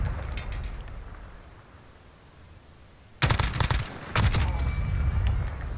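Shotgun fire in Call of Duty Warzone's Verdansk stadium, first faint distant reports, then a loud close burst of shots and repeated blasts near the end.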